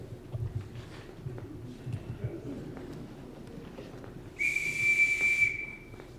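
A steady, high whistle blows for about a second near the end over a faint background of rustling and footsteps.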